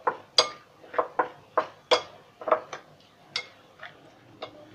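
Utensils clink against a bowl while a Thai-style cuttlefish salad with lemongrass and kaffir lime leaf is mixed, a series of sharp, bright ticks and taps in an irregular rhythm, close and moderately loud with no talking.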